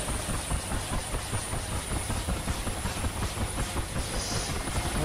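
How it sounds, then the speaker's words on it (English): A UH-1H Huey helicopter engine idles in the DCS flight simulator, a dense continuous rotor and turbine drone with steady rhythmic throbbing and a high whine, loud and unbroken, with no talking. "I release the starter button, increase the throttle to idle. RPM coming up."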